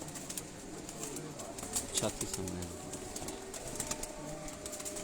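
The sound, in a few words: Lakha pigeons cooing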